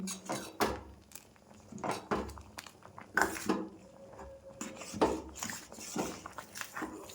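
Milk for payesh being stirred in a pot, a spoon scraping and knocking against the metal in irregular clinks and taps, fairly close, with no talking.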